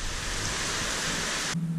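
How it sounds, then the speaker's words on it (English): Heavy rain pours down steadily during a thunderstorm, a dense, continuous hiss close by that cuts off abruptly near the end, with no thunder clap evident. "It will not stop raining."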